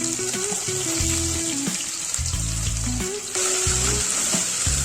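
Mustard seeds and cumin crackle and sizzle in hot oil in a home kitchen pan, a steady loud frying hiss with dense popping throughout, a brief dip near the middle, and faint background music running underneath.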